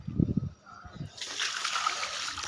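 Half a bucket of water is flung into the corner of a compost-filled clay pot, a sudden splash that settles into a steady trickling flow, after a brief burst of voice.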